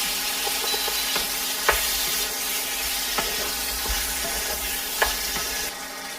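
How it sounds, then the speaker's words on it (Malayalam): A spoon works through a carrot rice mixture in a pan over low-medium flame, with repeated scrapes and clinks over a gentle, continuous sizzle. "ഇത് ഒരു 3 മിനിറ്റ് എങ്കിലും ഇങ്ങനെ മിക്സ് ചെയ്തുകൊണ്ടിരിക്കണം"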